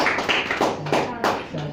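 A congregation at a church service claps in praise, a few quick bursts of hand claps under a speaking voice.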